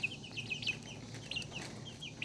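Pheasant and Polish chicken hybrid chicks calling, a series of thin high peeps and chirps close by, repeating irregularly over steady background noise.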